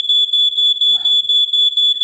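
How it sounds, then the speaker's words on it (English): A malfunctioning smoke alarm beeps in a steady, rapid, piercing pattern, loud and close, continuing throughout with no other sounds. "Oh, my smoke alarm."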